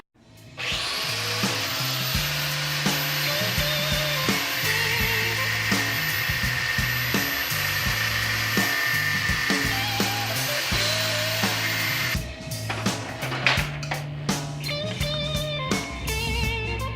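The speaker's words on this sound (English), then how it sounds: "So let's get the angle grinder out." An angle grinder cutting into a cheap spot welder's transformer core, a loud continuous whine over a rhythmic grinding churn for about twelve seconds, then spinning down into clatter and scraping.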